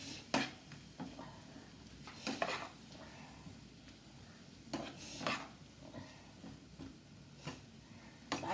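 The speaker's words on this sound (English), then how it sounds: "add 2 tablespoons of soya sauce and give it a quick stir" Egg fried rice with soya sauce being stirred in a pan, quiet scraping and clinks of a utensil against metal coming in irregular bursts over a soft background.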